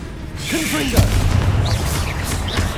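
A Confringo fire spell in Hogwarts Legacy explodes as a single hard boom near the middle, over a constant loud hiss of battle noise, with brief voice calls in between.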